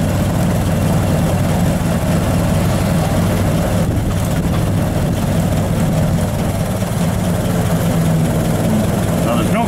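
A Ford Model T engine running steadily, a constant low rumbling drone with no change in pace while someone talks over it.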